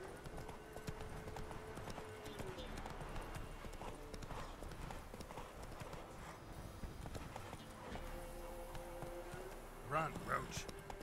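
Roach the horse gallops in The Witcher 3, a steady run of clip-clopping hooves throughout, with someone talking over it and a brief burst of sound near the end.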